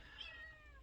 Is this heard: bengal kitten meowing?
yes